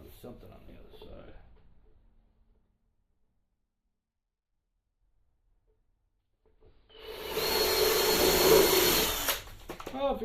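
A power drill runs for roughly two and a half seconds, drilling out a hole in an indoor bed frame. Quiet speech comes first, then a long silence, then the loud, close whir of the drill.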